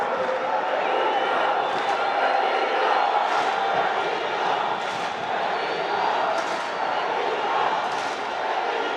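Football stadium crowd at a Premiership match between Stellenbosch and Orlando Pirates, a sustained roaring, chanting mass of voices with rhythmic surges, heard at a distance and filling the whole stretch.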